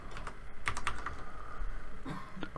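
Typing on a computer keyboard, a quick run of crisp key taps and clicks in an uneven rhythm, close and clear with no talking over it.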